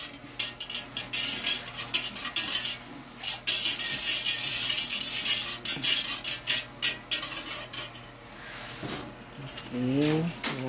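Mango jelly mixture for a graham mango jelly dessert stirred in a pot, giving a busy, close metallic clatter and scraping that runs almost without a break. A voice joins briefly near the end.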